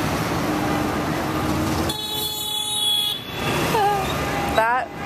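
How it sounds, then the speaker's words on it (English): A car horn sounds in Rome street traffic, a sustained honk in the middle of the clip followed by shorter bends of tone, heard close amid engine noise and city rumble. "he honked his horn"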